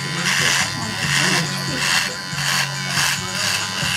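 An electric hair clipper buzzes steadily close by in a barbershop setting, a continuous bright electric hum with pulsing strokes, while men converse over it.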